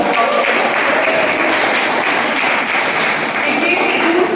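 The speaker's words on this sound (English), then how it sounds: "Give yourselves a big round of applause." Toastmasters club members applauding at their 1,600th meeting, a dense, steady round of clapping from a roomful of people that keeps up evenly throughout.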